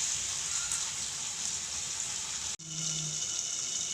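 Squid pieces fry in hot oil in a covered pan, giving a steady, rain-like hiss of bubbling and popping that drops out briefly near the end and then resumes with a low hum beneath it.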